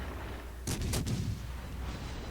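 In World of Warships: Legends, naval gunfire shells strike the player's cruiser, a Helena, as two or three sharp booms in quick succession over a steady low game rumble.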